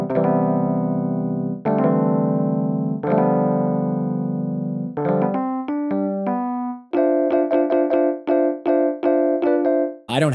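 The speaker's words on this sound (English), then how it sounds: "So an example is like this Rhodes that I got off of Splice." Rhodes electric piano sample played through a software multi-sampler: several long sustained chords give way to a run of short, rhythmic staccato stabs, clean and close with no talking.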